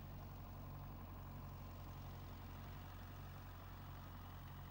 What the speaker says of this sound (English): This tractor is using a Ferguson spinner to spread fertilizer.